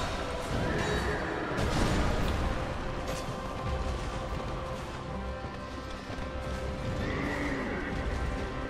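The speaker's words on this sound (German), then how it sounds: "Okay, das Pferd macht nach wie vor schön Schaden." Horse neighs and whinnies ring out over repeated hoof clatter and scattered impacts in the video game Dark Souls 2, two whinny calls standing out at the start and near the end.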